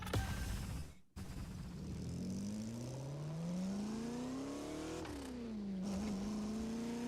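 An Aston Martin engine revs in the racing video game The Crew Motorfest, a sustained engine tone rising steadily in pitch after a brief cut, then dipping and climbing again as the car accelerates.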